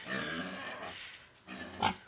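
A sow grunts softly while nursing her piglets on hay in a farm pen, low rumbling grunts in a steady run, then a sharper, louder grunt near the end.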